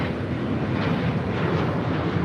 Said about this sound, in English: This is Alaska Airlines 1127 taking off to Portland on a 737-800.